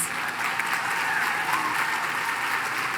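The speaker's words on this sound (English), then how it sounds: "If we could please give Lily a round of applause" Steady applause from a college commencement crowd, dense and continuous clapping throughout, fairly loud and close.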